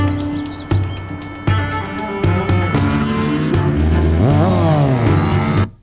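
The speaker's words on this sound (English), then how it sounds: "when we hit the normal speed fast bike zooming by in the next shot" A fast bike zooms past as a sound effect: repeated loud whooshing passes with sharp onsets, building to a pitch-bending roar before cutting off abruptly.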